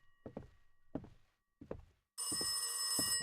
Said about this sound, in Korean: 전화 왔는데?